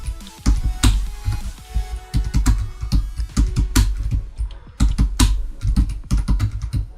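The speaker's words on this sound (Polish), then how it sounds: "U mnie klawiaturę teraz pewnie słychać." Rapid computer keyboard typing, close and loud, with dense clicking keystrokes and occasional heavier key hits throughout, during a Minecraft game.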